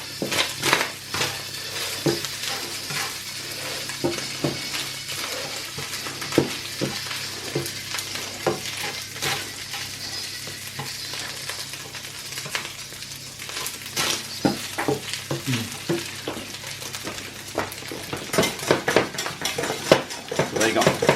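Minced meat frying and being stirred in a pan for loaded fries, with steady sizzling, scraping utensil clicks and pan knocks throughout, close and busy, with no talk.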